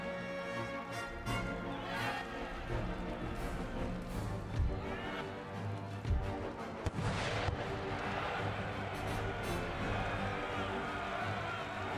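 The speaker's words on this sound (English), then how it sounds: "The general's gonna lash them with musket balls." Musket volleys crackle from massed line infantry in a siege battle in Empire Total War, with repeated bursts of firing and booms rolling over a steady battlefield din, some shots sharp and near, others distant.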